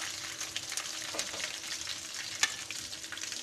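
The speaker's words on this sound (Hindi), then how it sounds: "समझ लें कि मछली जो है फ्राई हो गई है" Fish frying in oil in a pan for a fish salan: a soft, continuous crackle and sizzle with a few light clicks, fairly quiet and with no voices.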